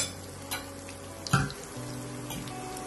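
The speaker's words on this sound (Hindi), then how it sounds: "पिंच ऑफ हींग, हींग को थोड़ा सा पकाएंगे।" A pinch of asafoetida (hing) frying in hot oil for karela masala: a soft, continuous sizzle close by, with a brief clatter near the middle.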